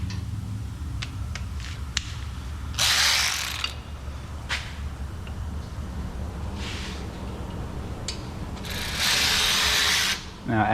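A ratchet wrench loosening the brake caliper bolts on a car in a home garage, with quick clicking ratchet strokes and metallic mechanical bursts close up over a steady background hum.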